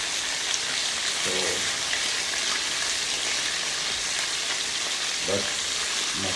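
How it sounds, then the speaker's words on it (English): Chicken frying in a pan for Jamaican rice and peas and chicken, a continuous close sizzle with a few faint clinks now and then. "That's my chicken frying."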